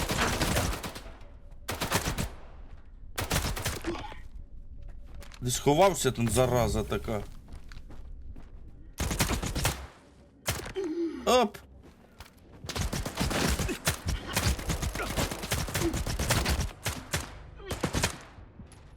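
Bursts of automatic fire from the Popados rifle in S.T.A.L.K.E.R. 2 come in several separate loud volleys with short gaps between them, and someone talks between and over the shots.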